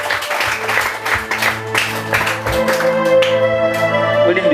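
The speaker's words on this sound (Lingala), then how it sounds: "Est-ce qu'on peut acclamer?" A church congregation applauds with loud, continuous clapping that fills the room, mixed with voices and faint sustained tones underneath.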